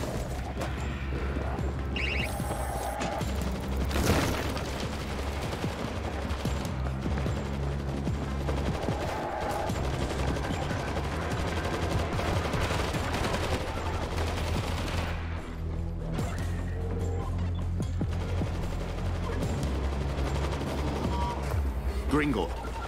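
Dense, continuous gunfire in the zombie shooter World War Z, rapid automatic bursts and booming shots layered over constant battle noise, with voices shouting now and then.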